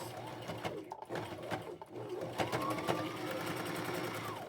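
A sewing machine stitches a seam on a men's shirt, its motor whirring steadily with short pauses and restarts, close and fairly loud with no talking.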